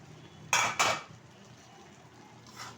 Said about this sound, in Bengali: ঢাকনা খুলে ঢাকনাটা তুলে দিচ্ছি